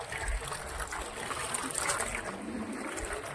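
Water from a motor pump at a service station trickles and splashes in a steady, faint flow nearby.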